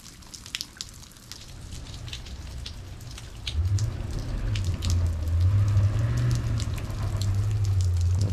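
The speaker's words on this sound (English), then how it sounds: "There you can see how hard it's raining." Heavy rain falls during a Christmas winter storm in Fairbanks, Alaska, pattering steadily on surfaces nearby, with a low engine rumble growing louder partway through.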